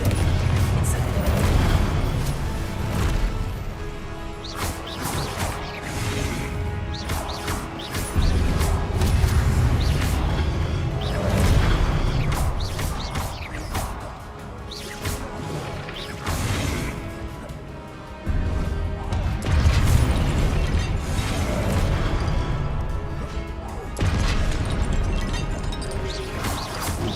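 Spell explosions in Hogwarts Legacy, loud repeated crashes, booms and bursts in rapid succession over a dense combat din, continuous throughout.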